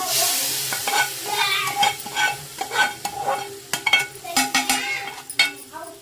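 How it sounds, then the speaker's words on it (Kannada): A spoon stirs and scrapes a carrot laddu mixture in a pan, making a steady rhythm of close metallic scrapes over a soft, continuous sizzle. "ಈಗ ಎಲ್ಲದನ್ನು ನೀಟಾಗಿ ಮಿಕ್ಸ್ ಮಾಡ್ಕೊಳ್ಳೋಣ"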